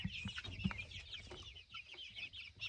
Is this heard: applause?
no